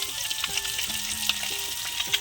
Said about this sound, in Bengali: আর এইদিকে কড়াইতে ভাজা হচ্ছে, এই যে কয় পিস দেখো, 6 পিস।